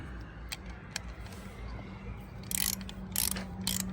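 A ratchet clicks in short bursts as a diesel injector clamp bolt is tightened on a 2011 Toyota Avensis T270 with the 2.0 D4D engine. The clicks are close and crisp, over a faint low hum, with no voices.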